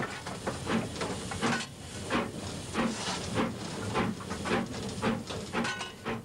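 A steam train on the West Highland line in the Scottish Highlands chuffs along steadily, rhythmic puffs and hiss repeating over a rolling rumble, fairly quiet and distant-sounding.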